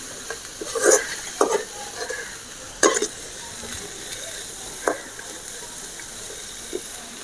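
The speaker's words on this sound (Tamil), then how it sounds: "எல்லாத்தையும் நல்லா போட்டு வதக்கணும்." Vegetables for a spicy soup sautéing in a pan, a continuous hiss of frying broken by several scraping and clattering stirs of the spatula, near and moderately loud, with no talk.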